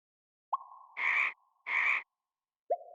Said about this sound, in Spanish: Es el sonido que hace una rana.